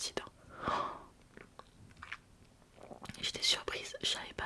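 Someone chews a soft raspberry close to the mic, with quiet wet mouth sounds and a few small bites mixed between whispering.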